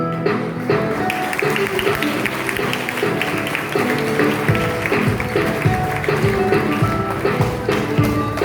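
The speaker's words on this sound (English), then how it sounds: "Let the audience cheer them with their thunderous applause." A crowd claps steadily, dense and continuous, at a school Gandhi Jayanthi celebration, with music playing underneath throughout.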